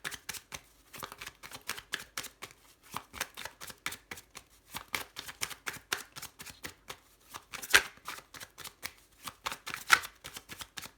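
Tarot cards are shuffled for a reading, a close, quiet run of rapid riffling flicks and soft slaps repeating in uneven bursts with no voices.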